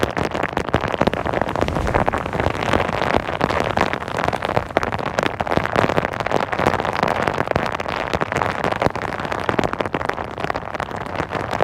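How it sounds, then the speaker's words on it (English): Sudden rain comes down hard outdoors on a bass fishing outing, a loud dense patter of drops hitting surfaces that holds steady throughout with no speech. "Unexpected rain."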